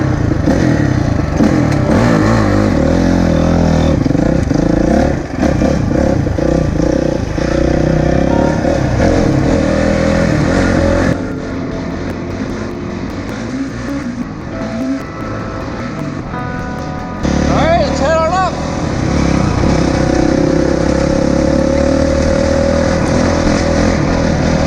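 A Honda CRF450 dirt bike converted into a snowbike with a Rekluse clutch, its engine running loud and close throughout, revving and droning with a quieter dip midway before climbing back up, with no talking.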